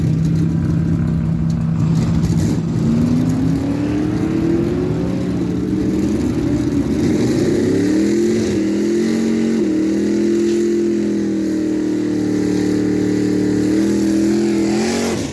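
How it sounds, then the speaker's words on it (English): An Audi TT RS and a 2012 Chevy Colorado drag racing at a dragway, engines roaring loud and close, revs climbing steadily through gear changes with a continuous droning whine, no talk. "It's a 219 Audi TTRS going up against the 2012 Chevy Colorado."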